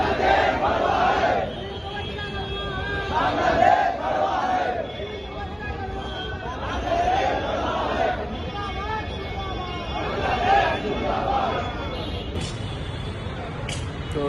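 Crowd of marchers at a protest march in Nagpur, Maharashtra, a dense babble of many voices with surges of chanting and shouting that rise and fall throughout, traffic faintly behind.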